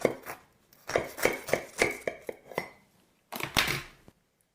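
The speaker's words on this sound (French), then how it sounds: "Essayons d'en couper une." Knife slicing through a crunchy snack on a kitchen surface: a run of sharp, crisp cuts and clicks in a steady rhythm, close and clear, then a brief pause and a final louder crunching cut, no talk.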